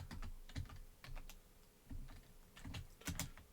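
Typing a password on a computer keyboard, a quiet close series of irregular key clicks in short bursts with brief pauses, alone without talk.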